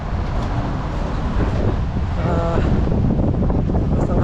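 Hot summer wind buffets a microphone outdoors in Canada, a loud, continuous low rumble that swamps everything, with a faint voice briefly surfacing beneath it.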